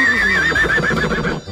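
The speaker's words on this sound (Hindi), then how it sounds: "यूनिकॉर्न।" A robot dog toy plays a horse whinny for a unicorn, a short shrill neigh that wavers for about a second and a half, loud and close and heard alone.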